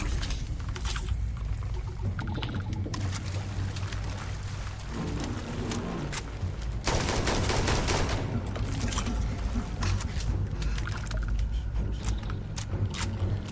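Rapid bursts of weapon fire in Starfield, dense overlapping shots and mechanical clatter over a rumbling low background, with a louder stretch of continuous firing near the middle.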